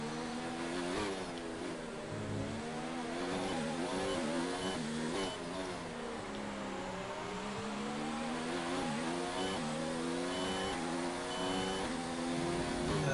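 An F1 race car engine in a racing video game revs high and continuously at the Mexican Grand Prix, its pitch rising and falling through gear changes over about thirteen seconds, loud and alone.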